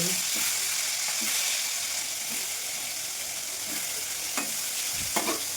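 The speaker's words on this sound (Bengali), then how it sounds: "ওটা কারকল নুন হলুদ দিয়ে মাখিয়ে ভেজে নেবো" Bitter gourd coated in salt and turmeric frying in a kadai, a continuous loud hissing sizzle with occasional soft stirring knocks and a couple of sharper clinks toward the end.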